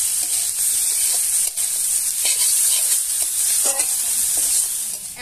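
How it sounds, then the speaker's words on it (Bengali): Potatoes, onion, and ginger-garlic paste fry in a pan for a crab curry, giving a steady loud sizzle with occasional stirring scrapes close by. "এর সঙ্গে আলুও ভাজা হবে, পেঁয়াজ আদা রসুন সবকিছু ভাজা হবে হালকা হালকা"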